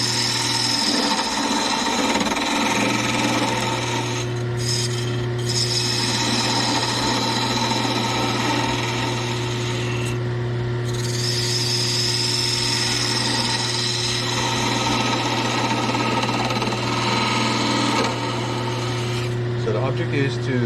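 Steady whir of a wood lathe spindle turning a cylinder, with a rasping tool scraping against the spinning wood, loud and continuous throughout with slight variations as the cut changes.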